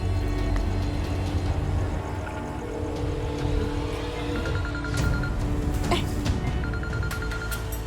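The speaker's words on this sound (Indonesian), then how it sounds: "Kok ada suara handphone sih" A mobile phone rings with repeated electronic tone bursts over a low, steady background hum, the ringtone pattern recurring several times close by.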